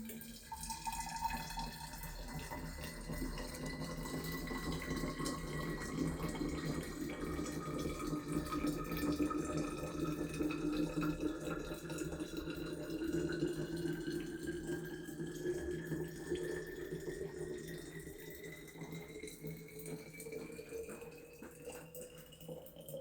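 Boiled water at 100 degrees pours steadily into a thick-walled glass bottle, a continuous splashing stream with a rising fill tone that climbs in pitch as the bottle fills, close and fairly loud throughout.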